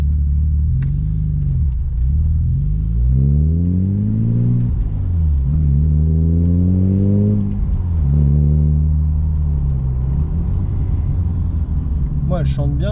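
BMW E30 320i engine accelerating, heard from inside the car: a deep rumbling drone that rises in pitch through several gear pulls, with falling dips between shifts, steady and close.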